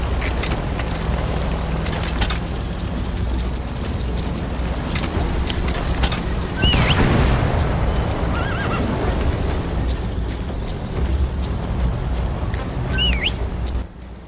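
A horse in Metal Gear Solid V: The Phantom Pain whinnies loudly midway, over a constant low rumble of game ambience, with a few fainter neighs later.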